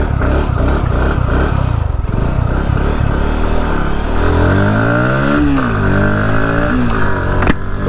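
Motorcycle engine at full throttle on a main highway, loud and close throughout, with steady rising and falling revs and wind rush; no talking.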